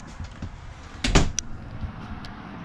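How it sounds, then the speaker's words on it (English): The exterior bathroom door on a 2023 East to West Della Terra 255BHLE bunkhouse travel trailer shuts with one sharp thump and a brief latch click, close by against quiet outdoor background. "I'm gonna go ahead and shut this door."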